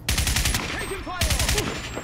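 Rapid bursts of enemy automatic gunfire in the shooter game Crysis, loud and close, coming in two clustered volleys with short gaps, mixed with game sound effects.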